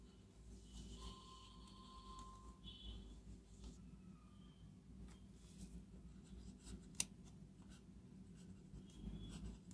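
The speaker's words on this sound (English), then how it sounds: "now some writing sample of this pen" Starone Magnetic Pal fountain pen, model 18792, writing on paper with emerald green ink: faint, close scratchy nib strokes in short irregular bursts with a soft background hiss.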